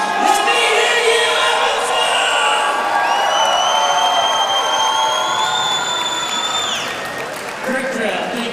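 A large crowd at a live cage fight event in Evansville roars and applauds in a sustained wash of cheering, with loud whistles and yells rising over it and a brief dip near the end.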